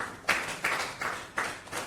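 A handful of claps at a conference as a speaker takes the podium, about five distinct, evenly spaced hand claps, close and moderately loud with no voices.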